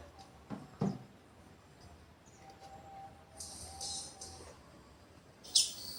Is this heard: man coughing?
no